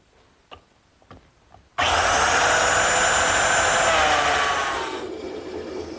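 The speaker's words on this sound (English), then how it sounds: "I'm making the corresponding holes in the hub for the spokes." A power tool drilling spoke holes into a wooden trolley wheel hub, a few faint knocks and then a loud, continuous whining cut that holds for about three seconds before tapering off.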